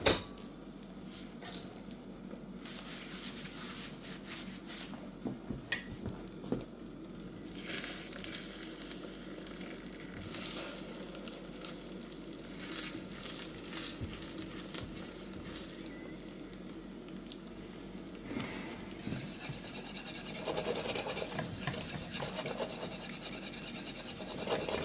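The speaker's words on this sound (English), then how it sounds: "You just want to keep whisking it constantly." A whisk scrapes steadily inside a pot of thickening egg nog mixture, a continuous close rasping and clinking with small irregular knocks, no voices.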